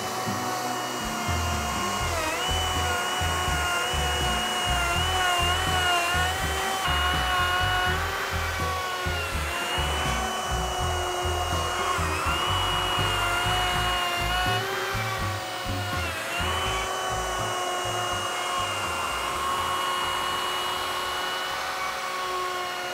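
A Rout-N-Plane bench top board mill routes across a board in a workshop, with a loud continuous router whine that dips and swells as the cutter is moved back and forth over the wood.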